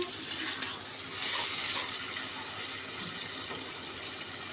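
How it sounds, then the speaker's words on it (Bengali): A little water poured into a bowl holding spice mix for chicken curry, heard as a soft, steady trickling and splashing, fairly quiet and close, with no talking. "অল্প একটু জল দিয়ে দিলাম"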